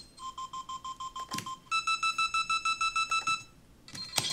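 Electronic beeps in rapid pulsed runs at two different pitches, then a brief pause and a final burst with a short static hit.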